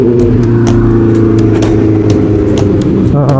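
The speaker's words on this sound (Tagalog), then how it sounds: "Mga big bike." Motorcycles, big bikes including an R15, overtaking along a road near Malico, San Nicolas, Pangasinan: loud, continuous engine drone with rising revs and passing whooshes, close by and steady throughout.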